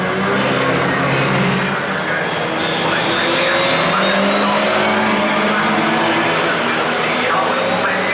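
Historic Formula 1 cars circulate at the Brands Hatch hairpin during the Masters meeting, engines droning loudly and steadily with shifting pitch as they run slowly around the tight bend, a continuous mechanical roar filling the scene.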